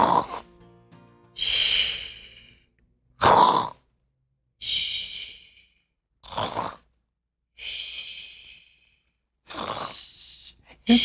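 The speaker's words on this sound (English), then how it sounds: "It sounds like she's snoring." Snoring from a person lying down to rest after a full meal: a series of about eight loud, separate snorts with gaps of quiet between them, each one a rough, noisy burst, close to the listener and with no talking.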